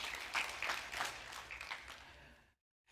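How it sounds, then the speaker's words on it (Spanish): A church congregation at a Sunday service claps together in a dense, bright burst of applause that fades and then cuts to near silence, with one last faint clap. "Denle un fuerte aplauso al Señor."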